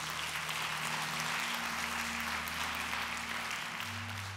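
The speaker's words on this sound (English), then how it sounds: "you can clap for that" A church congregation at Century Assembly claps in a steady, diffuse wash over a held keyboard drone, moderately distant and even throughout.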